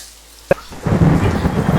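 A sharp crack is followed by a steady wash of rain, with thunder-like rumble in the background.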